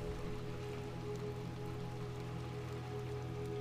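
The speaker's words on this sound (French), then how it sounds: "Il pleut." Steady rain falling in the pale city of the video game Little Nightmares II, a continuous soft patter with a low ambient hum and faint game music underneath, no voices.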